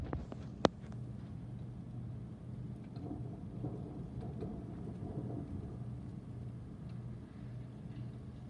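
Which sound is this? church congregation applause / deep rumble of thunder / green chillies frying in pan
deep rumble of thunder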